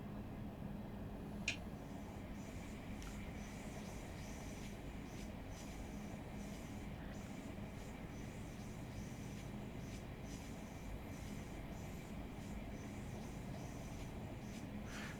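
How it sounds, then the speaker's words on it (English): Thameslink trains rumbling past at a distance in the Train Sim World 6 game, a faint, steady low roll of wheels on rails with a single brief click or squeal early on, and no speech. "Thameslink going out over there"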